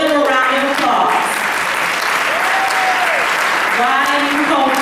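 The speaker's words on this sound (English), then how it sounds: "So give them a round of applause." Loud, steady applause from an audience greeting a panel of speakers at a public discussion, continuous clapping throughout with voices audible within it.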